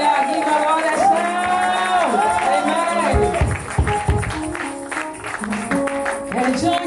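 A church congregation at an evangelistic Christian service claps and shouts loudly, cheers and voices rising over ongoing music, with a burst of heavier claps midway.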